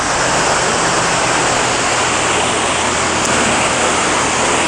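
A waterfall in a landscaped backyard swimming pool pours with a loud, steady broadband rush that holds without a break, close and with no talking.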